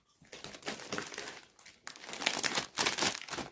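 Crinkling plastic of a cheese-flavoured Lulu snack chips bag being torn open, several close bursts of crackling rustle with brief pauses between them.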